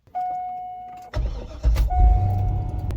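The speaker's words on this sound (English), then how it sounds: "So let's start by starting the engine." A C5 Corvette's engine cranks and fires up near the microphone, a steady warning chime sounding before the starter catches and the V8 settles into a loud, rumbling idle.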